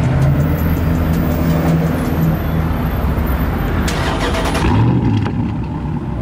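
A car engine with a newly fitted loud, throaty exhaust revs up and rumbles continuously nearby, with a rising rev near the end.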